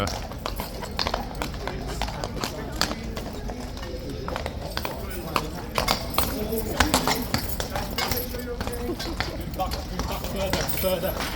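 Hooves of a guard horse clip-clop repeatedly on hard ground at Horse Guards, sharp and fairly close, mixed with crowd noise and people talking throughout.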